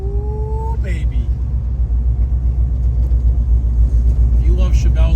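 Rumbling V8 of a 1970 Chevrolet Chevelle with a 700R4 overdrive transmission, heard from inside while driving, a steady loud low drone with a brief rising rev near the start and someone speaking over it.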